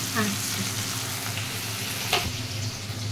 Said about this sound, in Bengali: শুকনো লঙ্কাটা একটু ভাজা ভাজা হলো, এরপরে আমি দিয়ে দেবো টমেটো